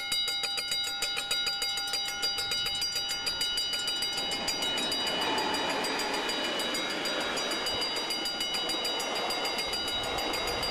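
A Dutch NS train passing during a railway open day in Heerlen and Maastricht, a horn-like tonal chord sounding first, then loud rumbling wheels and rattling carriages rolling by continuously at close range.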